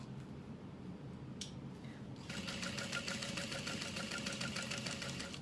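A sewing machine stitches around the edge of a fabric wallet pattern, starting after a short pause and running at a steady rapid needle rhythm, close and moderately loud.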